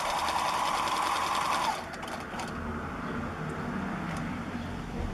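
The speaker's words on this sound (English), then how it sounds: "do a couple of locking stitches, and then straight stitch following that line" A sewing machine runs a steady straight stitch, a fast even whir at first that drops to a lower, quieter hum after a couple of seconds, continuing alone.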